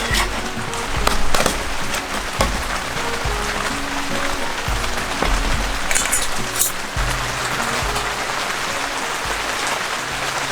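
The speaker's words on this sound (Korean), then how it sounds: "빗소리 듣는 거 좋아하니까" Steady rain falls throughout at a forest campsite with a dense hiss and scattered sharper drops and taps, fairly close, and no talking.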